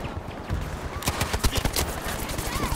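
Bursts of rapid gunfire in Battlefield V, close, dense shots cracking in quick succession after a quieter opening moment.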